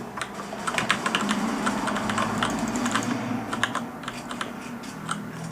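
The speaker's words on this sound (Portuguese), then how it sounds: "É mais ou menos assim o barulho da digitação." Mechanical G80-3850 keyboard with brown switches being typed on steadily, a fast irregular run of close, crisp key clacks with no talking.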